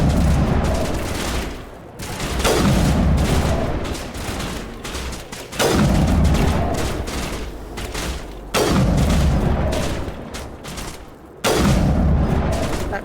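Gunfire in Mass Effect, with heavy bursts of shots and booming impacts coming in loud repeated waves that swell and cut off every few seconds, almost no talk over it.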